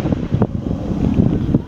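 Gusty wind buffets the microphone in Turks and Caicos, a low roaring rumble with short bursts of stronger gusts.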